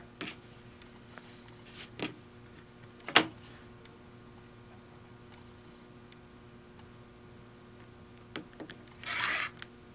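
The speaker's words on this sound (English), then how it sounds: "We'll trim up the edge to make sure I'm perfectly square" Quilting fabric trimmed square along its edge, a few soft scattered ticks and rubs giving way to a short, fairly close rasping cut near the end, with quiet gaps between.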